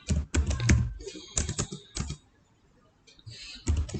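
Keys clatter on a computer keyboard while MySQL table syntax is entered, coming in several quick close-up bursts of clicks separated by brief pauses.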